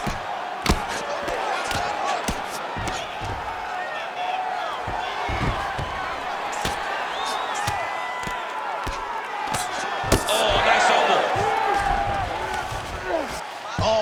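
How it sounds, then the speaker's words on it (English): A virtual arena crowd in the UFC 5 video game roars and cheers during a title fight, a sustained wash of noise with a swell near the end, heard beneath the game's commentators talking. "Big pop from the crowd as they get back to their feet"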